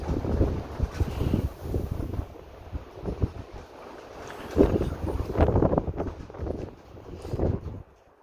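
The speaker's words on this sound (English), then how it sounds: "It's pretty doggone windy." Strong gusts of wind on the Continental Divide Trail between Pie Town and Grants buffet the microphone in rough, uneven rumbling waves, rising and falling throughout.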